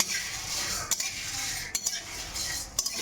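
Whole cumin seeds dry-roasting in a dry wok, a steady close crackle and hiss under repeated metal scrapes and knocks of a stirring spoon, with no talking.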